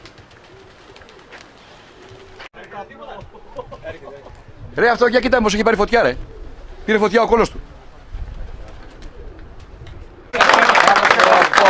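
Pigeons coo in a rooftop loft in Thessaloniki, soft repeated calls mixed under men chatting nearby, with a loud burst of noise near the end.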